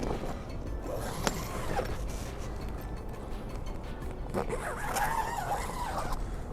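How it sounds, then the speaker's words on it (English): A zipper slides along the plastic shrink wrap covering the Cygnet boat, closing a window opening with crinkly rasping strokes, close and moderately loud, with soft plastic rustling in between. "zip it up to keep the winter out."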